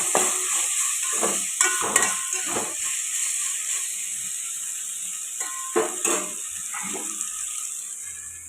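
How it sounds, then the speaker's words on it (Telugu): Salted tomatoes are stirred and fried in a pan for egg biryani. A continuous hissing sizzle runs throughout, with periodic scraping swells from the spoon as the pieces are mixed. "ఇప్పుడు బాగా కలుపుకొని టమాటాలు మెత్తబడిన దాకా ఫ్రై చేస్తాం"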